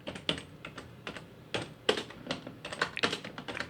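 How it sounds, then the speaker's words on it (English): Light, irregular keystrokes on a computer keyboard, close and fairly quiet, clicking in short clusters with brief pauses between them. "I'm going to type Roland."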